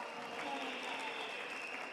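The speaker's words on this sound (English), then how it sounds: "I want to applaud the ministers and deputy ministers who are here" A crowd at a National Women's Day commemoration applauds ministers and deputy ministers in dense, even clapping that fills the hall.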